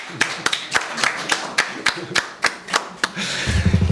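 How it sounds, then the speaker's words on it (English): A small audience at an online pan-African citizens' consultation gives a brief round of clapping, with sharp claps spaced unevenly across the span, growing denser toward the end. "I think it might be worth just doing a little clap for that"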